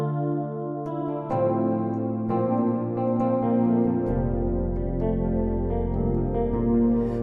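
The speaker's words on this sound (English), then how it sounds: "The chorus pad's lovely." Lush chorus synth pad from a sample library, sustained and shimmering with slowly shifting chords and a deep bass note joining partway through, steady and moderately loud throughout.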